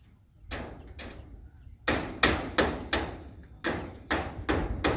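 Nails are hammered in during a house leak repair: close, hard strikes in uneven bursts, two blows, a pause, then clusters of three to four, with faint background hiss between.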